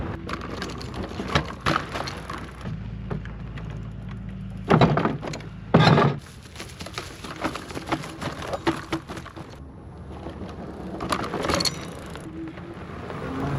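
Mokwheel Obsidian fat tire e-bike riding off-road, with a continuous rumble of tires over rough ground, scattered knocks and crunches, and two sharp jolting thuds midway, recorded close with no talking.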